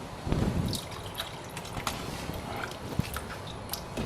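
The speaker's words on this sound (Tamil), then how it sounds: "ஸோ தண்ணி இன்னும் சேர்க்கணுங்க." Water trickles and splashes into a pot of butter bean gravy, a soft liquid pouring sound with small clinks, close and moderately quiet with no talking.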